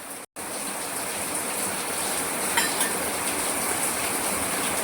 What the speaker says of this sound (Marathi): पाऊस पडत आहे हे पहा